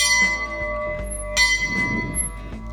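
A small bell rings a few times in quick, bright strikes, its tones lingering over a low background rumble.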